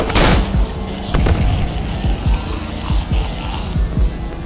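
Gunfire from a gun in the horror video game Cry of Fear: a sharp opening shot followed by a series of irregularly spaced loud bangs over a few seconds, with a dull rumbling backdrop.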